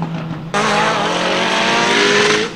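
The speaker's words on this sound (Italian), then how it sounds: "proprio si sente che ha la wastegate esterna" A tuned car with an external wastegate revs hard. A low idle bursts into a loud, sustained roaring rev with a rising whine, then drops away near the end.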